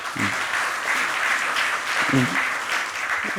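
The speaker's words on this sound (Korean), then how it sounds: "박수 한번 보내주시기 바랍니다" Applause from an audience at a South Korean People Power Party forum on agricultural policy reform, steady and moderately loud throughout, with brief low voices breaking through near the start and middle.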